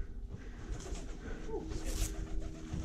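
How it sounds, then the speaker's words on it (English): A pigeon coos inside the abandoned control tower of former RAF Thurleigh, a few soft low calls rising out of a rough, noisy indoor room background. "Bloody pigeon."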